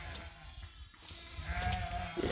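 Sheep and lambs bleat while a flock is being moved, several overlapping calls at close to moderate distance over low outdoor rumble, with no talk.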